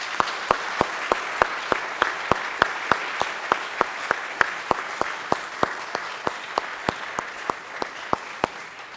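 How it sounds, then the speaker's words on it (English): Sparse, evenly spaced claps ring out in a church during a diocesan scout convocation Mass for the emblem recipients, sounding like only a few people clapping at a steady beat over a quiet, roomy background. "boys and girls, a round of applause."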